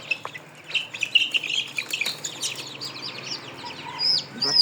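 Chickens clucking and squawking as young chicks are caught for vaccination, irregular bursts of bird calls at moderate distance with no talking over them.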